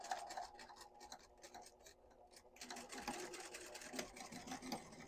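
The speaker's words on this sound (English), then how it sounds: "let's sew this at a 1/4 inch seam allowance" A semi-industrial sewing machine stitches a quarter-inch seam through a quilted cube bag, a steady close mechanical whir with rapid needle ticking that runs continuously and grows slightly louder partway through.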